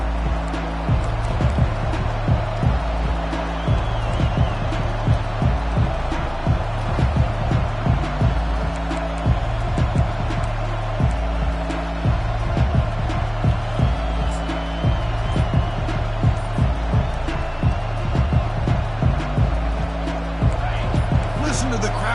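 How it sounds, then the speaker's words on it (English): Crowd noise fills a college football stadium early in a game, a steady roar under continuous play-by-play commentary, with rhythmic thuds and swells of cheering. "Listen to the crowd energy here in the early going."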